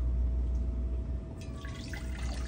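Old liquid from a large Nepenthes pitcher plant is poured into a one-liter plastic pitcher, a faint trickle and dribble that becomes a sloshing pour in the final second, heard alone against a low background hum.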